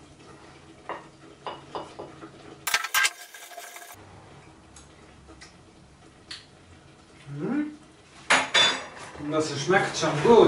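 A spoon stirs fennel risotto with parmesan in a pot, giving scattered metallic clinks and scrapes against the pan with quiet pauses, then louder scraping near the end as a person speaks briefly.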